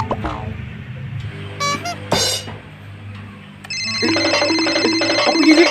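A mobile phone SMS notification tone rings out in a short Javanese comedy film, a bright electronic chime repeating over background noise and brief faint sounds before it.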